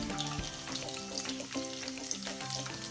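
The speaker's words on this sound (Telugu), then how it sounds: "మనకి ఆనియన్స్ అనేది కొద్దిగా లైట్గా ఫ్రై అవ్వాలండి" Onions and green chilies fry in hot oil, giving a dense, even sizzle close up, with faint scraping and stirring underneath and no voices.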